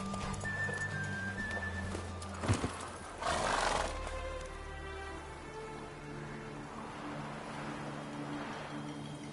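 Roach, a horse in The Witcher 3 game, gives a snort and whinny amid clip-clopping hooves and steady ambient background, fairly close but modest in level.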